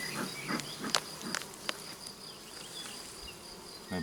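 Honey bees buzz at an opened hive during a frame inspection, a steady, fairly faint hum of many insects with a few sharp clicks and knocks from handling the hive.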